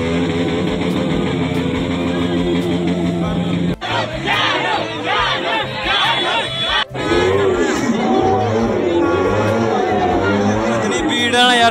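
Dense crowd chatter and shouting packed around a new superbike at a busy outdoor gathering, loud and continuous, with overlapping voices and brief dips.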